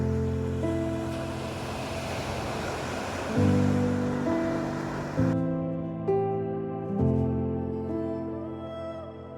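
Ocean waves break along a cliff-lined coastline, a steady roaring wash with surges rolling in every couple of seconds, close and loud against a sustained background of music.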